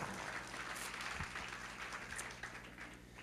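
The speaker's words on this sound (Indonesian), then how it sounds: "Berikan tepuk tangan buat dia." A church congregation bursts into applause during a sermon, a dense, steady patter of many hands clapping at once, heard fairly faint and distant throughout.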